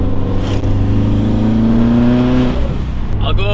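A boosted Subaru BRZ with an aftermarket turbo pulls through a quiet neighborhood. Its engine drones loudly and climbs in pitch under boost, then eases off near the end with a brief airy hiss.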